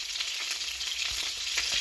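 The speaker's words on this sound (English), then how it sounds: "These little burgers are frying" Small patties sizzle and crackle steadily in a hot pan, a continuous bright frying hiss close up.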